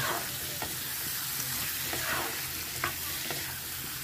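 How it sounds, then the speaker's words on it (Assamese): Meat sizzles steadily as it fries in a pan, with repeated scraping and clattering strokes of a stirring spoon; the frying is close and fairly loud, with no voices. "ধুনীয়াকৈ মাংসখিনি হেৰি কৰি দিয়া, ভাজি দিয়া, মিলাই দিয়া"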